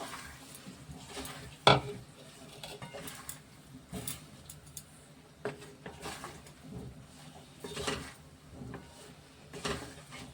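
Amla preserve stirred in a pot with a spoon, giving soft, faint scraping and occasional light clinks, with one sharper knock near the start.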